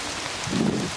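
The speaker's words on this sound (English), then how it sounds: "it's absolutely pouring down now" Heavy rain pouring down outdoors during a hunt, a steady dense hiss of drops that swells slightly midway, loud and close with no talking.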